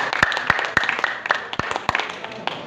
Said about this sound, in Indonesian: Tepuk tangan sama dia.